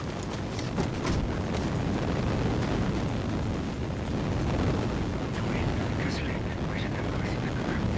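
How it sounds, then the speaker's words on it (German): An explosion in the video game Mad Max comes as a heavy, rumbling blast that fills the whole clip, with a dense low roar and scattered crackling bursts sustained at a fairly loud, even level. "Explosion."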